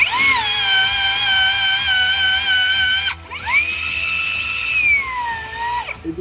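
A VB3616DA bender/cutter works 16 mm steel rebar to a 135-degree angle: a steady, loud motor whine with strong harmonics runs about three seconds, breaks briefly, then whines again in a second run before cutting off near the end.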